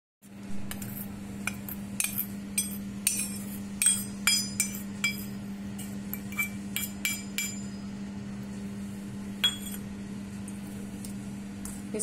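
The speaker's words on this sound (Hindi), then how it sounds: "इसको अच्छी तरह से मिक्स कर देंगे।" Powdered sugar being stirred into nankhatai dough in a bowl, giving repeated light clinks and scrapes of a spoon against the dish over a steady low hum, with no talking.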